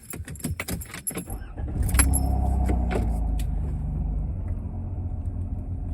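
Keys jangle briefly near the start, then a car engine turns over and settles into a steady low rumble as the vehicle idles and pulls away.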